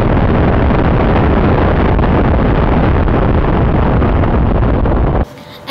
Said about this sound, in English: Here we have two micro jets in our park zone airframe.